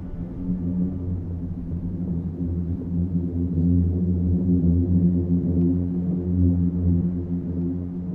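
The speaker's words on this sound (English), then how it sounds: "The sound you're hearing is actually coming from within the dunes themselves." A deep, steady droning hum with layered low tones, swelling slightly midway, a booming resonance rising from singing sand dunes in Death Valley, with no voices.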